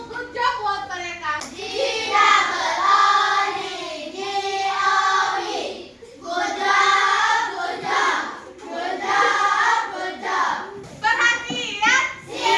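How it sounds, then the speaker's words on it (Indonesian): A school class giving a rhythmic "good job" clap, children clapping hands in patterned bursts while chanting along, with short pauses between rounds. "Kita berikan tepuk good job buat mereka."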